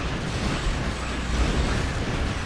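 Star Trek Online space battle explosions roll on as a thick, steady booming roar, loud and close, with slight swells in intensity partway through.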